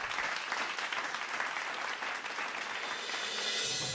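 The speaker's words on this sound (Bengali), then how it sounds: "আপনারা সবাই একটু জোরে হাততালি" Sustained applause from a live audience at a Bengali TV show family performance, dense steady clapping filling the whole stretch, loud and close without pause.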